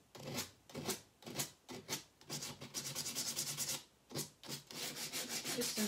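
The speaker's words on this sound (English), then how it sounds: "Now I'll sand them a little bit." Hand sanding of small wooden pieces for a chalk-stenciled general store sign tray, heard as close, steady rasping strokes in quick back-and-forth bursts with brief pauses between.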